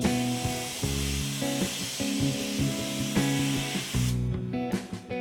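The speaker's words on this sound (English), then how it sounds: "let's blast off this chrome coating and get started" Chrome coating is blasted off pendant light parts with a sandblaster, a steady loud spraying hiss running throughout over a low mechanical hum, with a brief break near the end.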